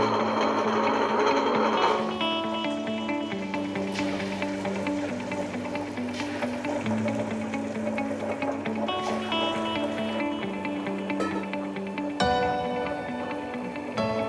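An electric wet grinder churns soaked urad dal into idli batter, a loud steady mechanical rumble with a tonal whine and rhythmic knocking from the stone, running close and continuously throughout.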